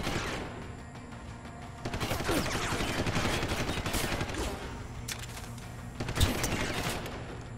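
Tranquilizer rifle firing darts in the Deus Ex video game, heard as several sharp shots amid a busy, noisy game soundscape, with a louder burst near the end.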